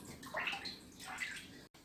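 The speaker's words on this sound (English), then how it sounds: "add about a 1/4 cup of your detergent to the water and just agitate it a little bit" Detergent water in a tub is swished and stirred by hand, giving soft sloshing and splashing in two brief surges, quiet and close, ending in a short silence.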